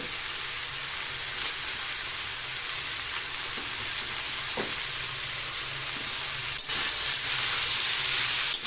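Tomato frying with drumstick flowers in a pan for a Bengali ghonto, a steady close sizzle and hiss running throughout with a few soft stirring knocks and scrapes, no voices.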